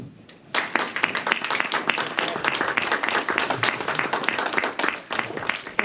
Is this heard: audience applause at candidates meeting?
yes